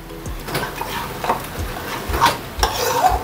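Hot oil poured into gram flour batter for prawn fritters and stirred through, giving soft wet scraping and stirring strokes with faint sizzle, close and moderately loud.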